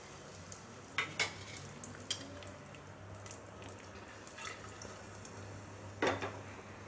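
Whole spices are tempered in hot oil: bay leaf, cardamom, cloves, nutmeg, star anise and marathi moggu. A faint sizzle runs throughout, with a few sharp pops and spatters that stand out at intervals.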